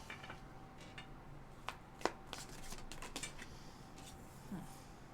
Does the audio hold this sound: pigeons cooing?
no